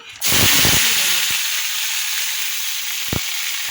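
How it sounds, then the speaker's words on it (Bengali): Garlic and nigella seeds fry in hot oil in a wok, a sudden loud sizzle that bursts up and then settles into a steady close hiss, with a few clinks of stirring. "কড়াতে তেলও দিয়ে দিয়েছি আর কালো জিরে ফোড়ন দিয়েছি"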